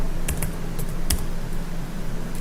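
Keyboard typing while entering React Native code, a few scattered key clicks in short bursts over a steady low hum, with pauses between strokes.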